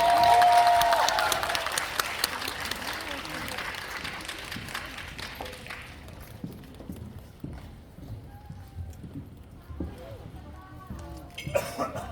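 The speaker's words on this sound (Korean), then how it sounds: "큰 박수로 맞이해주세요" Applause from the audience at an Apple TV+ Pachinko season 2 screening event at Lotte Cinema World Tower greets the arriving cast, loud at first and fading over several seconds into scattered claps, with speech over the tail.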